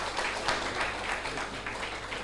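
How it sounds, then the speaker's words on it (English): Audience at an applied mathematics conference gives the speakers a steady round of applause, a dense wash of clapping from many hands filling the hall without pause. "We'll have a round of applause."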